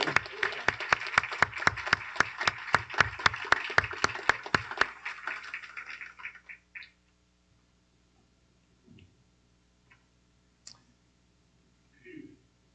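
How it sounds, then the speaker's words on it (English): An audience at a school board of education meeting claps in an even, steady rhythm for several seconds, then the clapping dies away into a near-silent room with a few faint knocks. "let's give her one more round of applause"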